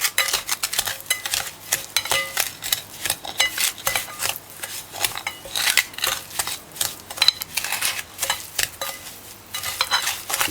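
A spoon working butter into banana bread batter in a bowl gives a steady run of wet scraping, clinking and stirring strokes, close and fairly loud with an uneven rhythm and no talking.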